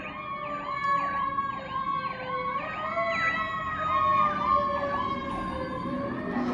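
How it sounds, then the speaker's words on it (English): A fire engine's siren wails continuously in a repeating rising and falling yelp, fairly loud and steady across the whole stretch with faint traffic beneath and no talking. "I hear sirens now."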